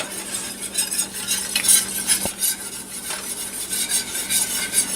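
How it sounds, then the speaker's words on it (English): Brown ale is poured into a thickening Welsh rarebit cheese sauce while a whisk keeps stirring in a pan, giving a steady close scraping and swishing with light metallic clinks and no talking. "as we keep whisking, we'll add more ale to that"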